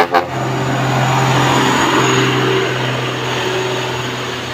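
A dump truck's engine idles steadily at close range, giving a loud continuous low rumble with a droning hum that holds without a break.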